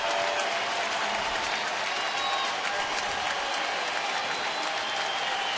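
A baseball stadium crowd of over 30,000 applauds steadily, a dense, continuous roar of clapping and cheering that stays loud and unbroken throughout.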